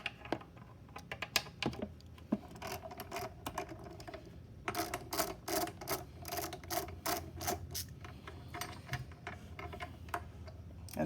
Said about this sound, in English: I'm using one of these ratchets and a deep socket